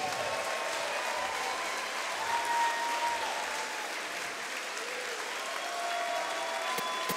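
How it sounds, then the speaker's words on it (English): Sustained applause from a fight crowd at the Skylight Modern for two fighters after a five-round bout, a steady, even wash of clapping lasting several seconds with faint voices underneath. "let's get a nice round of applause out here for both of these fighters."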